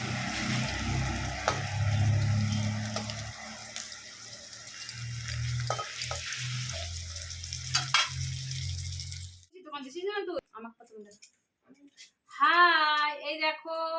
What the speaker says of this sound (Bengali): আর ঘি করলাগুলো ভাজছে